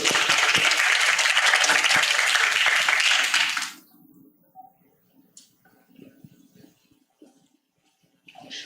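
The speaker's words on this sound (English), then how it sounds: "Please welcome them with a big round of applause." An audience at a high school English talk concert applauds a student team, a loud, dense burst of clapping that cuts off after about four seconds and leaves quiet room noise with faint shuffling.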